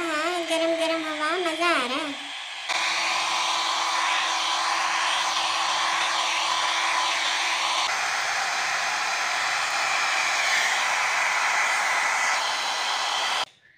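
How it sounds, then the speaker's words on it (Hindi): A hair dryer blows on a Persian cat after its bath, a loud steady whooshing drone running for over ten seconds and then cutting off, with someone talking briefly before it starts. "अभी जल्दी से साफ करके ड्रायर करता हूँ।"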